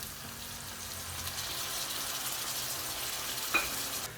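Tomatoes drop into a pan of frying onions for a Durban-style lamb curry, giving a steady close sizzle with one brief sharp clink near the end.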